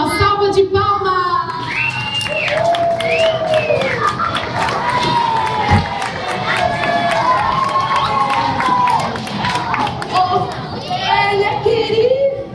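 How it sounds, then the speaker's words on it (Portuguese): Children cheer and shout loudly at a church gathering welcoming a guest, a dense, excited crowd of young voices that stays steady throughout with high calls rising above the din. "Vamos receber a minha amiga com uma salva de palmas!"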